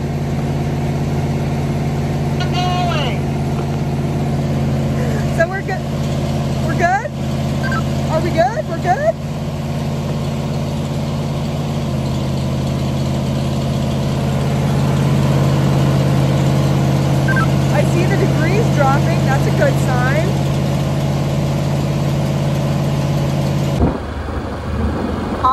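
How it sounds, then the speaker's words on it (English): A big road maintainer works a gravel road with a steady, droning diesel engine hum and occasional clunks, close and continuous, while people talk over it. "Roads all around us are all gravel, so we have these big maintainers that come through to maintain the roads."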